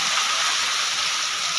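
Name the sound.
heavy rain with wind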